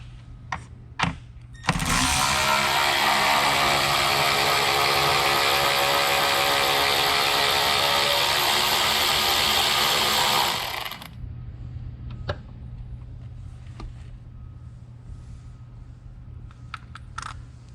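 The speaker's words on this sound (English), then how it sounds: "We're going to want to remove this nut." A power ratchet or impact tool spins off the 10mm nut on the battery hold-down of a 2023 to 2026 Ford F-250 with the 6.8L or 7.3L engine. The close, loud, buzzing whir runs about nine seconds, followed by light tool clicks.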